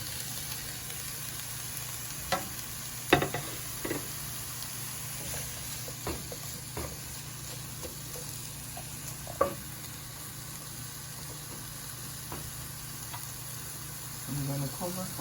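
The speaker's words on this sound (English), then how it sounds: "I'm gonna add a tablespoon of olive oil. Then I will be adding my tofu." Tofu frying in a tablespoon of olive oil in a pan, a low steady sizzle with occasional soft pops and clicks from stirring, fairly faint.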